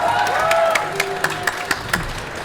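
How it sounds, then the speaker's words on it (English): A wrestling crowd at an AEW show claps and cheers, with distinct hand claps popping at a regular rhythm over a sustained wash of applause. "a round of applause for your next AEW Tag Team Champions"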